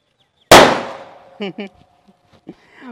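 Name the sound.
firecracker exploding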